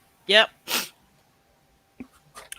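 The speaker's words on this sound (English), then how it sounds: "I told you I was sneezing." Two sharp sneezes in quick succession, close and loud, followed after a pause by faint rustling and small clicks.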